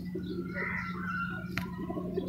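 A jira gola pigeon, a Bangladeshi breed with white wings and a speckled neck, gives soft low cooing over a steady background hum, close and fairly quiet, with one brief sharp click.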